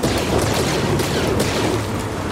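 Blaster shots and impacts in Star Wars Jedi: Fallen Order, a dense, loud barrage of crackling bursts and booms that continues without a break and with no voices over it.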